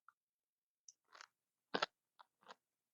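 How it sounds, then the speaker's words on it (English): Crunchy chewing of soft smoked cabbage cooked with butter, heard close up as a few separate bites and crunches with quiet pauses between them, no talking. "now, time to taste some of that cabbage"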